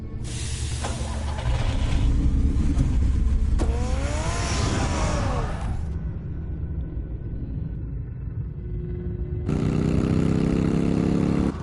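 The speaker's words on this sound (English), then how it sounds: "Get the car ready, Alfred." A car engine rumbles and revs in the Telltale Batman video game, loud and close, with roaring bursts, a brief quieter lull, then the engine surges again, with no talk over it.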